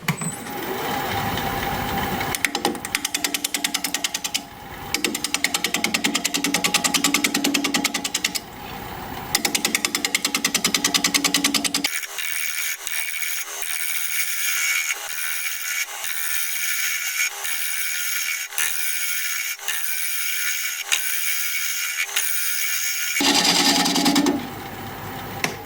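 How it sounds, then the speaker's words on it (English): Wood lathe spinning a bowl blank at 600 RPM while a 1/2-inch bowl gouge cuts, giving a steady loud buzzing, scraping whir with rhythmic pulses, continuous and close throughout, briefly softening midway. "We're going to try a 1/2-inch bowl gouge at 600 RPM"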